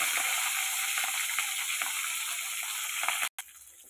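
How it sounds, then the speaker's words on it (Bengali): Katla fish frying in a pan on a clay stove, a steady bright hiss with a few soft crackles, broken by a brief cut near the end. "এরকম মাছগুলো একটু লাল লাল করে ভেজে নিচ্ছি আজকে।"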